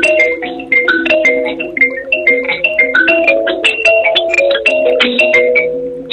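An Abir Zazimu, a Zimbabwean instrument, plays a quick bright melody of plucked, bell-like tones heard over a phone line, loud and alone with no voices.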